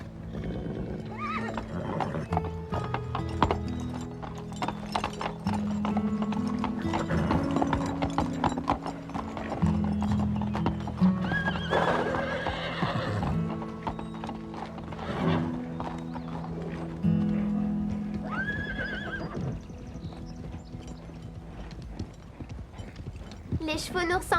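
Horses on a ride clop along at a walk with steady hoof beats and repeated whinnies, mixed with creaking tack and people talking over the scene.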